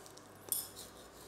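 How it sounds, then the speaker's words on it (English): A fork and knife cut through a bacon, cheese and spinach omelette, giving a single quick clink of metal on the plate amid quiet room tone. "But let me just cut that up."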